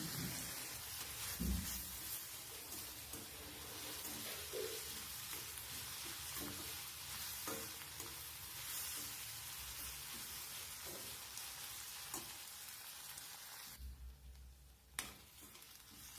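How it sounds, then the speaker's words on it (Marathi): Chopped onion and tomato sauté in hot oil with a soft, steady sizzle. Faint stirring scrapes come and go, heard quietly throughout with no talk. "आणि टमाटा पण आपल्याला तेलावर छान परतून घ्यायचा आहे बघा अशा पद्धतीने।"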